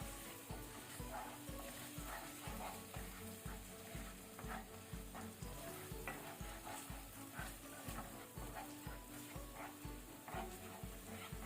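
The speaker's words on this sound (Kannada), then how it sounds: "ಇದನ್ನೀಗ ಸ್ವಲ್ಪ ಎಣ್ಣೆಯಲ್ಲಿ ಫ್ರೈ ಮಾಡ್ಕೊಳ್ಳಿ" Stuffed squid with masala fries in oil over a low flame, a continuous sizzle with regular rhythmic scraping of a spatula stirring throughout, close and steady, no talking.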